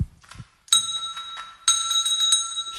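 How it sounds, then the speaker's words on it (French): A dog paws a small bell hung on a string, giving two bright rings about a second apart, each with a lingering metallic tone, following a few soft taps. "Elle a mis un petit coup dans la cloche."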